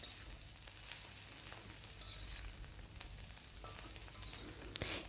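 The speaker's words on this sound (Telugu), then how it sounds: "ఈ కారం పచ్చివాసన పోయేంత వరకు సిమ్లో పెట్టుకుని కాసేపు వేయించుకోవాలి" Egg and dried prawns fry with chili powder in a pan, giving a soft continuous sizzle and crackle with occasional small pops and stirring clicks. It stays low and even throughout, with no voices.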